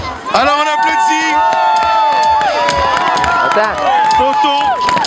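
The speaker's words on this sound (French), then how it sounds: "Alors, on applaudit." A crowd at a ski competition near Mont Blanc claps and cheers loudly and continuously, with high shouts and whistles rising over the noise and tonal cheering sweeping up and down throughout.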